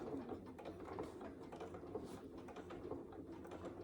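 A sewing machine stitches across the gusset of a fabric saddle bag with dark thread, a quiet, steady mechanical whirr and rapid clatter that runs without a break and with no voice over it.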